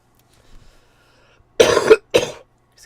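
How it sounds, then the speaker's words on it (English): A woman with a bit of a cough lets out a close, loud burst of coughing, then a second shorter cough after a brief pause, with near silence around them. "I have a bit of a cough"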